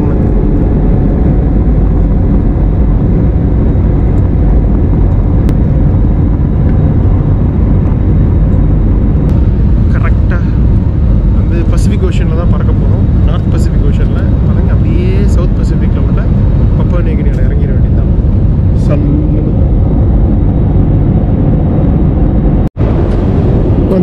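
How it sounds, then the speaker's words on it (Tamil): Airliner taking off from a runway at a Papua New Guinea airport, its engine roar a loud, steady broadband rumble heard from inside the cabin throughout, with some faint voices in the background. "டேக் ஆஃப்க்கு வந்தாச்சு."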